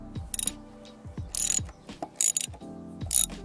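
A ratchet loosening the kickstand bolt on a KTM Duke 790/890 motorcycle, giving several short bursts of rapid clicking separated by pauses, close and fairly loud.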